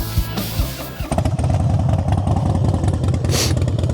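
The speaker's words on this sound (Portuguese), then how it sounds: "Agora eu vou dar uma partida nela para vocês verem." A Harley-Davidson V-twin motorcycle engine cranks and catches after about a second, then settles into a loud, steady, lumpy idle with a throbbing, uneven rhythm that carries on to the end.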